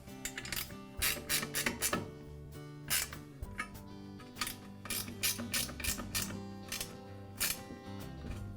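Bracket bolts on an MK Diamond tile saw are tightened with a ratchet during a table replacement, giving bursts of rapid, close mechanical clicking that come and go across the stretch, with no voices.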